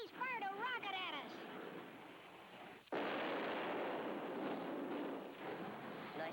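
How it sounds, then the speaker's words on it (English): A cartoon rocket fires with a wobbling, warbling launch tone, then a sudden loud blast bursts into a sustained roaring rush of noise that slowly tapers, in a 1987 Gumby animated episode. "He's fired a rocket at us."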